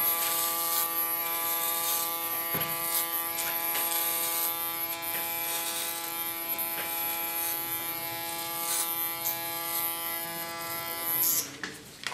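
An electric hair clipper cuts short hair, giving a continuous close, high-pitched buzz with small crackles as it moves through the hair, ending in a brief clatter.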